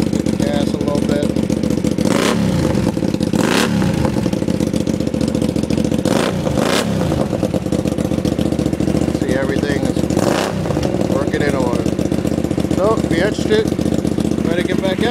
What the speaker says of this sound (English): Get a good sound for the pipe here. Gas a little bit.